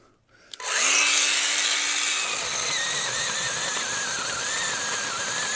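A Dnipro-M CS-12 cordless chainsaw bites into dry hard wood, motor spinning up to a loud steady whine that holds as the chain cuts, with a shifting squealing tone, close and alone.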